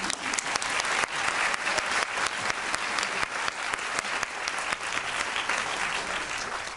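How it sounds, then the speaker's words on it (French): Applause at the opening ceremony of the 18th Korean film festival in Paris, a full room clapping loudly and continuously with crisp individual claps standing out, fading slightly toward the end. "Applaudissements."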